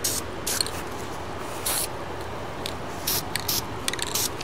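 A spray can lays a light coat of paint on a PVC tee fitting for a homemade bug light, in short hissing bursts of about a second or less, separated by quiet pauses.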